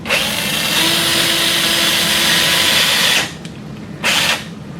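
Cannulated power drill driving a 1.5 mm guide pin into a sawbones wrist model for a total wrist arthroplasty, a loud, steady high whine running about three seconds, then a short second burst after a pause.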